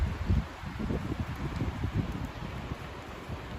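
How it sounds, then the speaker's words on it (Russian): Strong squall of wind tossing forest leaves near a log cabin in Siberia, a dense rustling roar with gusty low rumble, steady and fairly loud throughout without speech. "Просто сильнейший шквал ветра поднялся."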